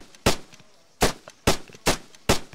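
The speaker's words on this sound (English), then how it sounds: "I'm also hearing gunfire." Gunfire from an automated turret in the Tekkit game, five sharp, loud shots spaced irregularly across a quiet background, each ending in a short decay.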